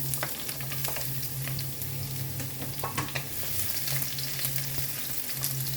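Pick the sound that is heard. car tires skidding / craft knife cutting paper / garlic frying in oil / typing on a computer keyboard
garlic frying in oil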